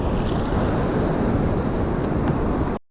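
Breaking ocean waves far out from a beach make a continuous broad roar mixed with wind buffeting the microphone, steady and loud throughout before cutting off abruptly.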